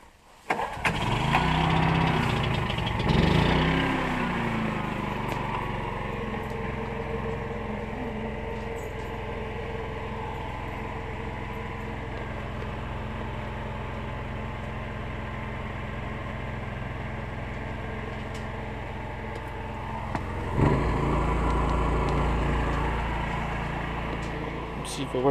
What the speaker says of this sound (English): my parents just got back home and brought on the generator